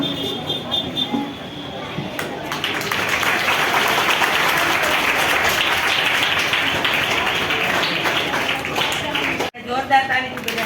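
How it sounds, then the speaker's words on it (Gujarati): Audience applause at a school shed inauguration ceremony in Wankaner taluka, Morbi district: a sustained wash of many hands clapping that swells in and holds loudly before cutting off, with a brief voice at the end. "જોરદાર તાળી બજાવો"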